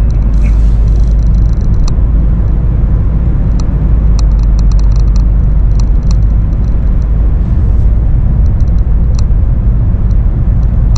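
Steady, loud road rumble fills the inside of a sealed car driving along a quiet road, a continuous close engine-and-tire drone with faint high ticks and no talking.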